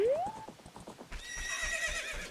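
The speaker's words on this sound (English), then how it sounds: "No, you can't ride any of the horses." A horse neighs with a rising whinny and then trots with clip-clop hoofbeats in The Legend of Zelda: Ocarina of Time Master Quest, the call loud at the start and the hooves steady after it.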